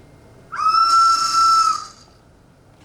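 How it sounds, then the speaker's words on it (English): A special toy whistle gives one steady, piercing high tone lasting about a second and a half, with breathy hiss around it, then cuts off into quiet. "See, I have a special whistle here."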